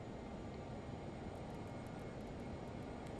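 Learjet 35 jet engines in a flight simulator, a steady broadband roar and hum holding constant with power being added, fairly quiet and alone without talk.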